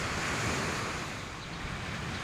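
Sea waves wash onto a beach in Laiya, San Juan, Batangas, a loud steady roar of surf mixed with wind buffeting the microphone, continuous and with no talk.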